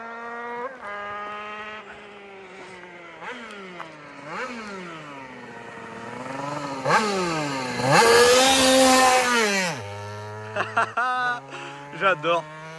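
A 50cc scooter engine held at full throttle rings out in a loud, buzzing whine whose pitch rises and falls with the revs, climbing to a harsh peak before dropping back, then a few short blips at the end.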